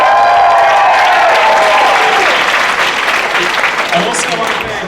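Comedy show audience applauds and cheers loudly, a dense burst of clapping with whoops that slowly tapers, with voices underneath.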